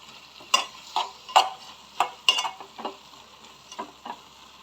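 Minced meat cooked with spices in a pan is stirred, with sharp scraping knocks of the spoon at irregular intervals over a faint sizzle, close and otherwise quiet.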